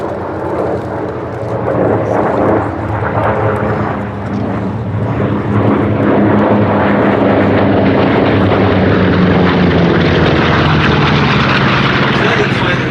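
A Hawker Sea Fury Mk 11 and a Grumman F8F Bearcat approach to land on the hard runway at Duxford, with a steady, loud piston-engine propeller drone throughout and an announcer speaking over it.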